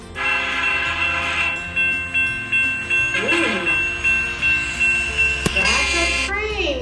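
A train rolls past with a rhythmic clatter of wheels over rail joints, loud and close, and its horn sounds over the passing cars; a voice briefly exclaims partway through.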